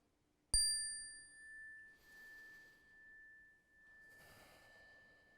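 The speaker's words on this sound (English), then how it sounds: "when I ring my chime" A meditation chime is struck once with a clear, close ring that sustains and slowly fades over several seconds in an otherwise quiet room.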